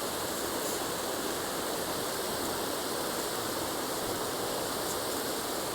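Creek water pours over a spillway in a loud, constant roaring rush, heard up close with no pauses or voices.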